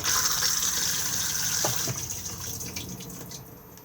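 A Thetford cassette toilet flushes in a Benimar Mileo 282 motorhome washroom: a close rush of water gushes out and gradually tapers off over a few seconds.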